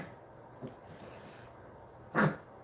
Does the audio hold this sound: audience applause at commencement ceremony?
no